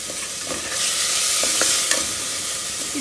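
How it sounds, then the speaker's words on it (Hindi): Minced meat fries with spices for iftar aash, giving a loud, dense, continuous sizzle close up, with a few sharp pops and stirring knocks over the hiss and no speech. "इसको 1 से 2 मिनट तक के लिए हम भून लेंगे।"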